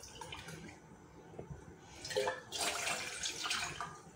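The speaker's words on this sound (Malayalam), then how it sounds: "ഇതിലേക്ക് ഇപ്പം ഞാൻ 2 കപ്പ് വെള്ളം ഒഴിച്ചിട്ടുണ്ട് കേട്ടോ." About two cups of water poured into a pot on a gas stove, a faint splashing stream rising after a couple of seconds of quiet and continuing to the end.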